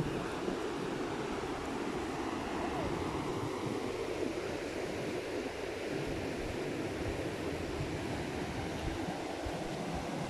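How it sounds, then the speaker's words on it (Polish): Loud, steady rush of high floodwater pouring over the Różanka weir in Wrocław, a continuous broadband roar with no breaks, close by and alone without talk. "Szum wody jest większy niż zwykle."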